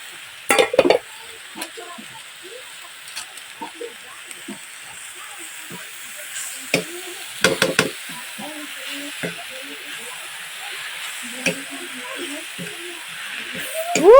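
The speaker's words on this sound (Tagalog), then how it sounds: "Makagutom ang kahumot sa akong gigisa nga puso sa saging." Banana heart (puso ng saging) sautés in a pan with a soft, steady sizzle and hiss, broken by sharp scrapes and clacks of stirring, while a voice talks faintly in the background.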